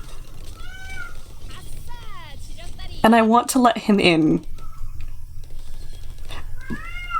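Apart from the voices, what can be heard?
cat meowing outside the door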